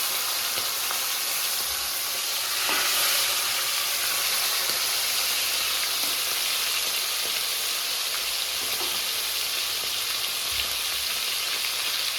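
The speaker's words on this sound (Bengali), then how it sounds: "কই মাছটা সুন্দর করে ভেজে নেব" Koi fish fry in deep hot oil, giving a steady, close, continuous sizzle and bubbling hiss throughout with no talking.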